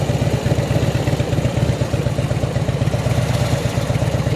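A 2007 Harley-Davidson Electra Glide Ultra Classic idles with a deep, loping rumble, its steady uneven pulses close and loud with no talking.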